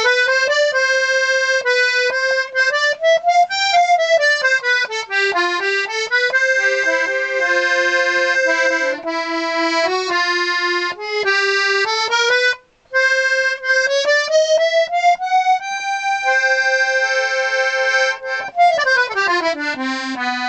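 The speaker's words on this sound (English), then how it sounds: "I can play all of the treble side with the treble side reeds tuned and the tremolo how I'd like it" Royal Standard 32 bass accordion, treble side with reeds tuned to A440 and tremolo reeds, plays a continuous flowing melody with bright reedy tone and steady loud sustain, close and alone, with one brief pause near the middle.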